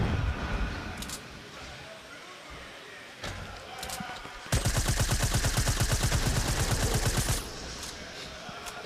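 SMG fire in a Fortnite match rattles in a rapid continuous burst lasting about three seconds, preceded by scattered single shots amid busy game noise, with a commentator talking over it.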